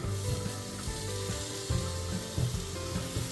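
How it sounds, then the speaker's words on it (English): Washed lentils and red kidney beans go into hot oil and curry paste in a pan, producing a steady close sizzle with soft bubbling and faint stirring scrapes throughout. "So in goes the lentils and red kidney beans, and I will cook them together."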